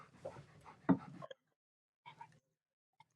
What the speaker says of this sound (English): I gotta show you my service dog.